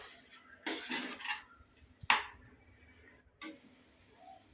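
Fried gobi manchurian cauliflower tossed and stirred in a pan, with bursts of scraping and clattering against the metal, a sharp clink partway through, then more scraping, close by and moderately loud.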